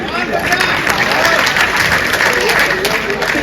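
Audience applause at a Hindi comedy poetry gathering (hasya kavi sammelan), a dense steady wash of clapping with crowd murmur mixed in, loud and continuous throughout.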